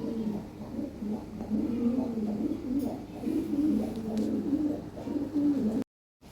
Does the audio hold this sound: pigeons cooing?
yes